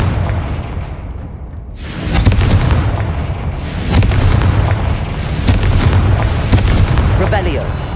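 Blasting curse explosions in Hogwarts Legacy, loud booming bursts with rumbling tails rolling over one another in quick succession, mixed with game effects and crackling debris.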